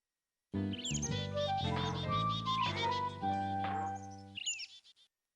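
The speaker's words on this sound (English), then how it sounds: "Here's some friendly-looking birds." Cartoonish birds chirp in the Reader Rabbit game: bright synthesized tweets over a steady, tuneful musical bed for a few seconds, ending with a quick chirpy flourish.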